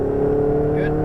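A Ferrari 488 GTB engine pulls hard under throttle on a track, a steady droning note that holds and rises slightly over a second, with a voice talking over it.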